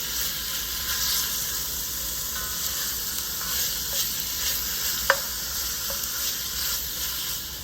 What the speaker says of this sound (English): we're just gonna brown this up a little bit before we throw the veggies in